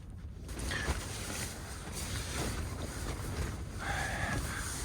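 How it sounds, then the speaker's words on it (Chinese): A strong wind roars continuously on a high plateau by a roadside campsite, buffeting close and loud with gusty surges and faint flapping, no voices. "昨晚上刮了一夜的大风，然后到现在还没停"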